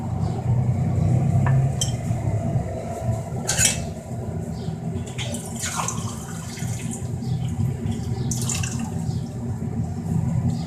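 Water splashes and pours into a metal pot of cooking keema and garlic amid kitchen clatter, with a few sharp clinks of utensils over a steady low background hum.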